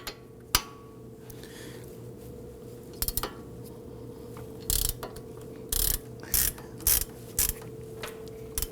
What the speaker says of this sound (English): we're gonna use our 15mm socket on our ratchet here. We're going to loosen this.